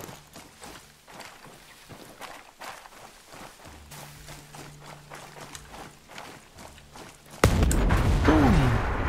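A vehicle blown apart by C4 in the Ghost Recon Breakpoint video game, a sudden loud broadband blast near the end that rolls into a sustained roar, following a stretch of footsteps and game sounds.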